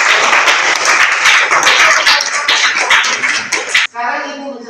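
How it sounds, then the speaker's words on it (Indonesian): A classroom audience claps for a group's presentation, a loud close burst of many hands that runs for about four seconds before cutting off abruptly, after which a voice begins speaking. "Silakan kasih tepuk tangan untuk."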